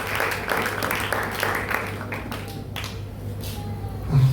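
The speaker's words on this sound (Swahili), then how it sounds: "Mpe tena Yesu makofi." A church seminar congregation applauding for Jesus, with brisk clapping at first that thins and fades to scattered sounds, ending in a brief louder burst.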